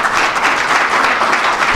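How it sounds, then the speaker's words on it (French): An audience at a book dedication event applauds in a thick, continuous burst of clapping at close range, steady and fairly loud for its whole short length. "on l'applaudit trop fort"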